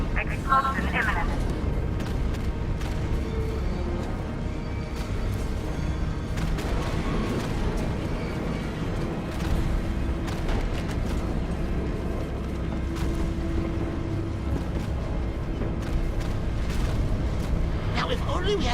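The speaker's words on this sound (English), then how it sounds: "I need to escape Ace Chemicals before it explodes." Ace Chemicals blows apart in Batman: Arkham Knight: rumbling blasts and heavy mechanical crashing roll on continuously with booming bursts, while voices speak over the chaos.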